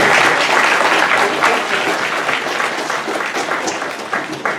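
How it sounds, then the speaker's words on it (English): A crowd applauds steadily and loudly, dense clapping that holds throughout and fades slightly toward the end. "let's just give our speakers another round of applause"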